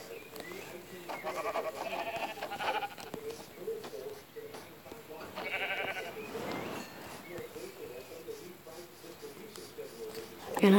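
Sheep bleating in a video game, several wavering calls at moderate loudness mixed with a voice talking in the same stretch.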